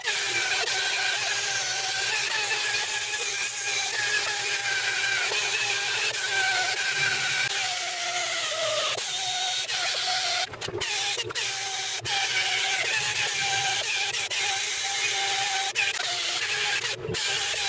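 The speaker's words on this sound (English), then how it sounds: "A new sandpaper pad will do much quicker work than an old pad." A power sander with a fresh sandpaper pad grinds steadily on the metal keel of a MacGregor Venture 21 sailboat, a loud, continuous whirring drone with a few brief interruptions and no talk.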